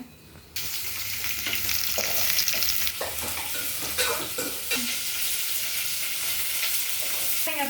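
Chopped onions and chana dal sizzling loudly in hot oil for a tempering, a steady bright crackle that jumps up as they hit the pan, with occasional stirring scrapes throughout and no talk.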